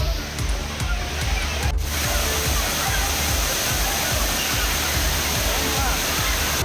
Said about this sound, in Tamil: கன்னியாகுமரி மாவட்டம் திற்பரப்பு அருவியில் குவிந்த சுற்றுலா பயணிகள் ஆர்வரித்து கொட்டும் தண்ணீரில் குளித்து மகிழ்ந்தனர்